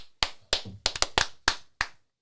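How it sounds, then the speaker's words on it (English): Seven sharp hand claps ring out one by one at a podcast recording, crisp and close, with short, slightly uneven gaps between them and no other sound. "Just in case, some claps."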